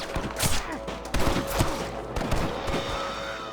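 Gunfire from a Red Dead Redemption gameplay firefight in the Pike Basin: several sharp shots crack in quick, uneven succession over a busy bed of background noise, fairly loud and close.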